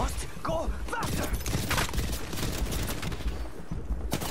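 Gunfire in the battle royale Apex Legends: steady rapid shooting continues throughout, with shouted game voice lines over the top.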